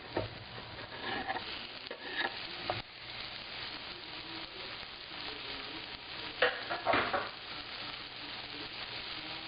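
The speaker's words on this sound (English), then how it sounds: "So I'm just going to stir this around." Mango barbecue sauce with onion sizzles in a pan as it is stirred, a soft, steady frying hiss broken by scraping, clattering stirring strokes.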